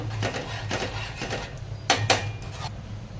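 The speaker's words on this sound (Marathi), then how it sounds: "उकळी आली की दोन चमचे साखर टाकते मी पुन्हा ढवळून घेते" Tea with sugar stirred in a pot on the stove, a series of soft spoon scrapes and light metallic taps against the pot, fairly close over a low steady background hum, with no talk.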